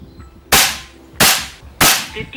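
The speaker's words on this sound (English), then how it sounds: "I'm just going to shoot three for the regulator and everything to settle in after the fill." Three sharp, loud shots from a regulated PCP air rifle firing Zan slugs, each a crisp crack with a quick decaying tail, spaced roughly evenly about two-thirds of a second apart, close to the listener.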